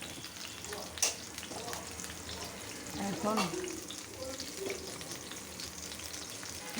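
Eggplant slices fry in oil in a home kitchen pan, a soft continuous sizzle with a few clinks of a utensil turning them, a brief spoken word over the crackle.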